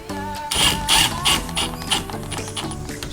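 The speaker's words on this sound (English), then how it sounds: "so I'll just tighten these ones up" Bolts being tightened on an OMP Kubic steering wheel quick release hub, giving a run of close, clicking ratchet-like mechanical sounds with irregular bursts and no talk.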